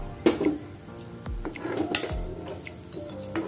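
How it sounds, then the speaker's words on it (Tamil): Chopped cashews and almonds roasting in hot ghee for papaya halwa, a soft sizzle under clinking of a utensil against the pan, with a few sharp metallic taps and scrapes. "இப்போ நம்ம வந்து கட் பண்ணி வச்சுருக்க முந்திரி பாதாம் இது ரெண்டுத்தையும் வறுத்து எடுத்துக்கலாம்"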